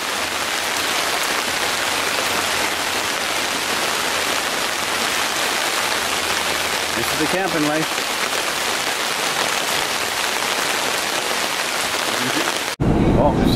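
Heavy rain drums hard and continuously on surfaces at a campsite, a dense close roar that stops abruptly near the end, with someone speaking briefly over it.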